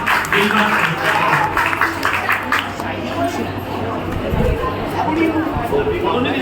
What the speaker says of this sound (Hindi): तालियां बजा करके हमारा सम्मान।